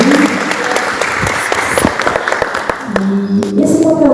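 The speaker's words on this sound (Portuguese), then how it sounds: "Dá uma salva de palmas para Jesus." A church congregation applauds loudly in a thick, continuous burst of clapping. Toward the end a voice briefly rises over the noise.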